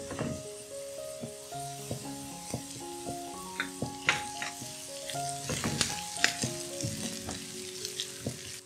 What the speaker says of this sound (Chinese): 炒至稍微有点金黄后放入咖喱叶炒香